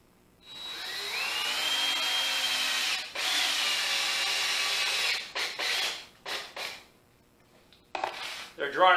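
A power drill drives trim head screws into the wood of a bourbon barrel whiskey shelf, one long close whirring run followed by several shorter bursts, with a brief spoken moment near the end.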